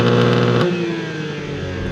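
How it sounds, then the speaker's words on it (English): A BMW M4 Competition's exhaust revs outside the car, a loud rising engine note that drops off and settles into a lower burbling run. "the exhaust sounds kind of all right. There's some good burbles and stuff there"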